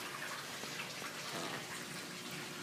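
Water runs steadily into an aquaponics sump tank below a bell siphon pipe, a continuous close trickling wash with no voices.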